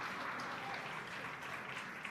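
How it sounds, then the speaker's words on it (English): Applause erupts across SpaceX Mission Control after a booster's first landing, a steady, dense wash of clapping from a room full of staff that holds evenly throughout with no voices above it. "An eruption of applause here at SpaceX Mission Control"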